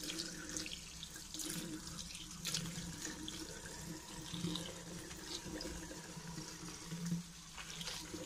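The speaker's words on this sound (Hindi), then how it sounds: "पानी से आप ऐसे क्लीन कर सकते हैं, स्पॉन्ज या कोई कपड़े से आपको धो सकते हैं ऐसे" Running water steadily rinses a washbasin during cleaning, a continuous splashing flow from a tap that stays even throughout, with no talking.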